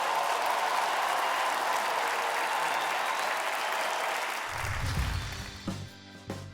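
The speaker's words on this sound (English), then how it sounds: "a huge round of applause for Ellesmere College Chamber Choir" An audience at a televised young choir competition semi-final gives a school chamber choir a full, sustained round of applause that fades near the end, where music starts up beneath it.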